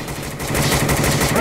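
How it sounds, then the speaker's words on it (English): Cannon fire in the South Park: Snow Day video game, aimed at a giant worm: a rapid, dense string of loud booming blasts packed closely together, heard alone. "Aim the cannon right at the worm."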